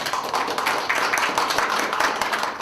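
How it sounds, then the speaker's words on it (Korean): Applause at an award ceremony for a youth doctrine-practice lecture contest: an audience claps in a dense, continuous patter of many hands, moderately loud and sustained throughout. "더 뜨거운 박수 부탁드리겠습니다."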